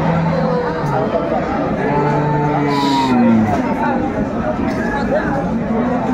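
Cattle low now and then amid a busy Dinajpur market where large bulls are bought and sold before Qurbani, under a steady crowd babble and nearby chatter.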